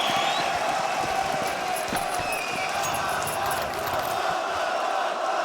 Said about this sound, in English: get used to hearing the crowd roar